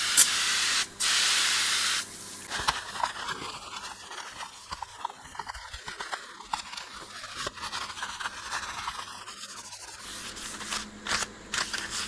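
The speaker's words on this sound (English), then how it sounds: "I'll give this some going over with the foam cleaner." Foam cleaner sprays onto the front panel of a Technics RS-671 tape deck in two loud hissing bursts, followed by quieter rubbing, handling and scattered clicks up close.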